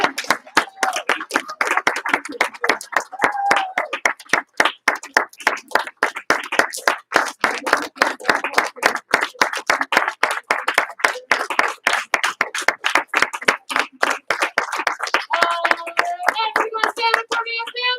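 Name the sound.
round of applause for students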